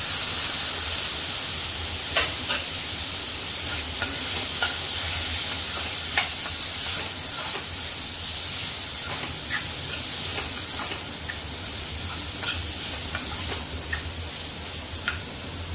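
Asafoetida sizzles in hot oil in a pan for tomato rice, a steady close crackle with scattered sharp pops and light clicks of stirring throughout.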